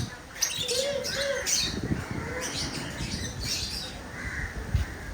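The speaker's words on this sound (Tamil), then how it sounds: "Love birds." Lovebirds in a park aviary give high chirps and squawks in short bursts over a steady background hum of outdoor noise.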